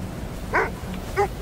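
A dog gives two short, clear barks about half a second apart, close and fairly loud against a quiet background.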